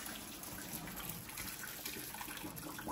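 Hot water gushes and drains into a kitchen sink as cooked macaroni is strained, a steady close rushing wash with no voices.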